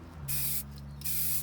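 Aerosol spray paint laying a light coat onto BMX bike parts in two close, loud hissing bursts separated by a brief pause, with no talking.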